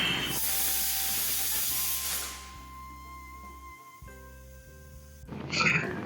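Pressure cooker whistle shrieking as steam rushes out in a home kitchen, a loud sustained hiss that fades midway and returns briefly near the end over a steady background hum.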